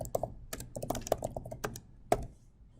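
A meeting title being typed on a computer keyboard, a quick run of light, close key clicks in an uneven rhythm with a firmer tap near the end, in a quiet room.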